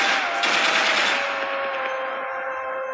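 Rapid gunfire crackles in a fast burst, then a long echoing tail fades away, loud and sharp at first.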